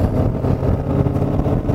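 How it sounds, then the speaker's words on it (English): A 1955 Ford Thunderbird convertible with aftermarket mufflers drives steadily, its engine giving a continuous deep, rumbling burble with a slight throb, close and loud, with no talk. "Got some nice sounding mufflers on her. Listen to that."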